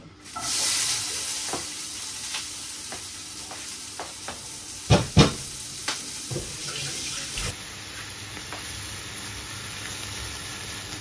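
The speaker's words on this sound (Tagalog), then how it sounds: "Igisa ko muna tong squid." Squid sautéing in butter in a pan, a steady close sizzle with repeated spatula scrapes and a few louder clanks midway.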